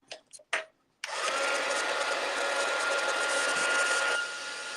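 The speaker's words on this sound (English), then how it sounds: "So you guys are gonna hear my dryer." A few faint knocks, then a hair dryer switches on and blows with a steady loud whoosh, dropping slightly in level near the end.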